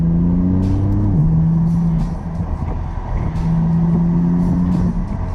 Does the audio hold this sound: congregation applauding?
no